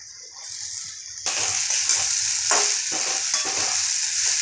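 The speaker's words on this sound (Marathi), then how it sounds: "आता आपण शाबू घालून घेऊया" Soaked sabudana (sago pearls) tipped into a pan of fried potatoes and stirred, a steady close sizzle that jumps louder as the sago goes in, with several scraping stirs of a spoon and no talking.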